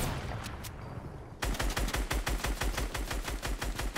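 Rapid, sustained minigun fire in Fortnite, a loud, evenly spaced stream of close shots that bursts in after a quieter stretch of scattered gunfire.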